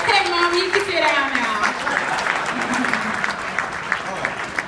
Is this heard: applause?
yes